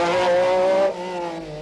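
A rally car climbing the Moll's Gap stage in Ireland, engine loud and near with a sustained high revving tone that drops as it shifts or passes, no talk.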